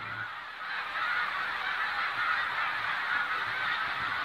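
A flock of resident Canada geese honking continuously outdoors, many overlapping nasal calls forming a loud, steady chorus that fills the whole stretch without any talk.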